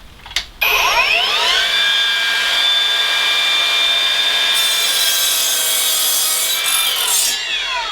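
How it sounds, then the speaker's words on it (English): An Evolution R255SMS-DB-Li cordless mitre saw, with a shop vac attached, cuts a piece of wood: a click, then the motor whines up to a loud, steady high-pitched scream through the cut before winding down at the end. "It went through that piece of wood, even with that blade, remember, which is not a high teeth blade."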